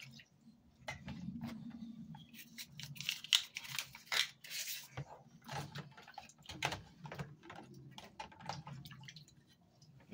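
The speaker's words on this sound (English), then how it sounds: "use the clean water to clean that stuff off" Clean water is worked over a plastic cassette tape shell, giving irregular splashes, drips and wet scrubbing sounds close up, with a low hum underneath.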